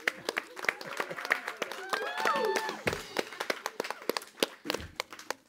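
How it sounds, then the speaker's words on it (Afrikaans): A cooking-show studio audience claps and cheers in a dense burst of applause, with a voice talking loudly over the clapping. "Gee jouself 'n lekker harde klap."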